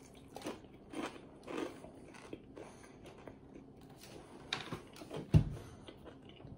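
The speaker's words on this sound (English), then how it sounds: "It's got that crispy crunch" Someone takes quiet bites and chews an ultra-thin crispy-crust sausage and uncured pepperoni pizza. Soft crunches come in a loose rhythm with a sharper crack near the end, close to the mic and without talk.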